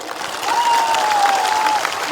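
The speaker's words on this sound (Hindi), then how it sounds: "ताली दीजिए इनको।" Crowd at an outdoor political rally claps in a short, loud burst of applause, dense and steady for about two seconds with a faint whistle-like tone running through it.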